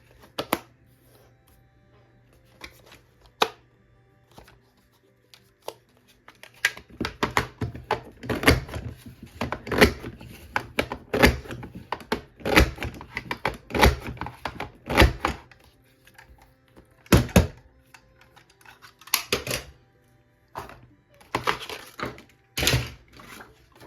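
Sharp, clicky snaps of a handheld hole punch going through material, starting sparse then coming in dense irregular bursts with quiet gaps, close and dry, with no speech.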